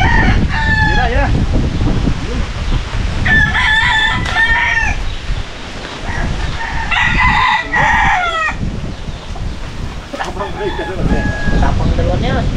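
A rooster crows repeatedly up close at a rural home, with loud drawn-out calls and clucking mixed in over steady background noise and some talk.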